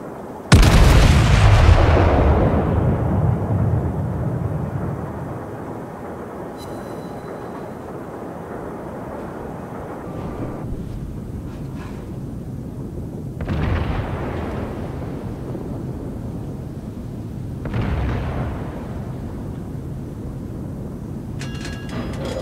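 World of Warships naval gun salvo from a warship in the game, one loud, close, deep boom that rolls and fades over several seconds, followed by a few more distant, duller thuds.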